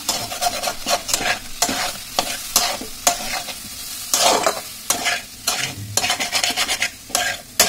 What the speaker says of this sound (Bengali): এবার ভালোভাবে আমি কষে নেব।